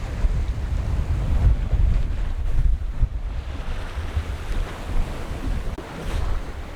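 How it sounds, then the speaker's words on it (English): Wind rushing and water washing against the hull aboard a sailboat under sail on its last outing of the season, a steady close roar of gusts and splashing that continues without a break and with no voices. "There's just enough wind for like really good sailing."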